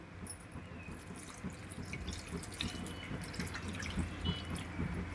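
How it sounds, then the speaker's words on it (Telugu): Steady trickling and dripping of water into a pan of stuffed eggplant curry, continuous and close, with no voices. "ఇప్పుడు నేను కొంచెం వాటర్ వేస్తున్నానండి"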